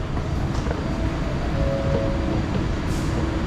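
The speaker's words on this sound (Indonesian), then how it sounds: "kereta api cepat. Ini yang Malaysia tuh." A fast airport express train from KL Sentral to KLIA2 in Malaysia gives a steady, even rumble from on board, with no voices.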